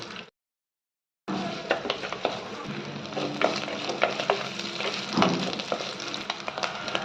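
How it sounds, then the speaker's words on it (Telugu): Soaked, washed dried prawns frying in oil in a pan and stirred, steady close sizzling after a brief silent gap, with scraping and clinking of the spoon against the pan mixed in. "వేడి నీళ్ళలో నానబెట్టి కడిగిన ఎండ్రేలు ఇవి బాగా వేగే వరకు కలుపుకోవాలి."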